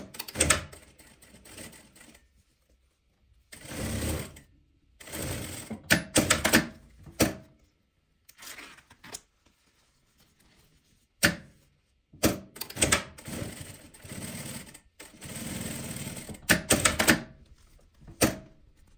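A sewing machine stitching a seam on a creative fabric craft project, running in several separate bursts of busy mechanical rattling with short quiet pauses between them.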